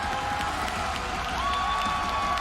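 Esports playoff watch-party crowd cheering and applauding, a steady dense roar of voices and claps filling the whole stretch at fairly loud level.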